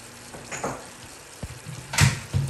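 Spicy chicken adobo frying and sizzling in a pan while being stirred, with a few sharp scrapes and clatters of the spoon over a soft, steady crackle.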